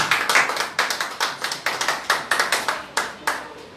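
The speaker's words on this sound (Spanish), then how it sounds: "Dale otro aplauso al Señor." A church congregation applauds, a dense run of rhythmic hand claps rising and falling in steady bursts for a few seconds, fairly close and loud with no talking over it.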